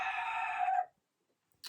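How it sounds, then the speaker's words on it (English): A rooster on a homestead crows loudly and close, one long strained call that cuts off sharply, followed by near silence and a brief noise at the very end. "The rooster is not having me talk"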